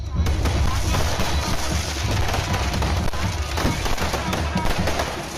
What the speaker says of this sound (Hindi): रंगारंग आतिशबाजी,